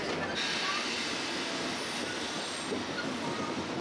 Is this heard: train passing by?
yes